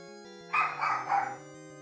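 A dog gives a short burst of two or three quick yapping barks, fairly near but softer, over a quiet steady hum.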